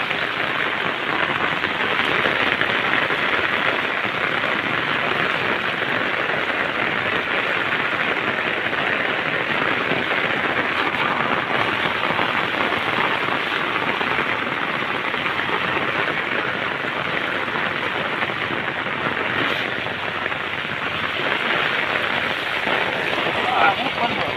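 Steady, heavy rain pours continuously, a dense even hiss that fills the whole stretch without pause.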